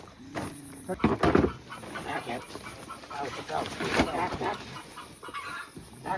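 Several chickens cluck and squawk nearby in irregular bursts, mixed with background voices and farmyard noise.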